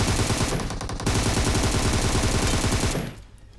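Rapid video game gunfire, dense bursts of automatic shots rattling loudly for about three seconds before cutting off into quiet.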